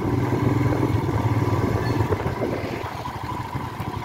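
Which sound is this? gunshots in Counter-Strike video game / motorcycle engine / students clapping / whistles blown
motorcycle engine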